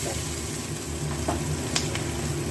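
Ginger and a green chilli frying in very hot oil left from frying fish, a close, steady crackling sizzle with a faint low hum and a couple of brief clinks.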